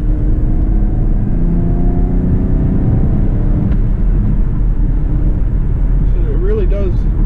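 A 2010 V6 Camaro with about 110,000 miles pulls hard through the gears, its engine droning loud and low inside the cabin as it accelerates, with a rising whine and faint talk near the end.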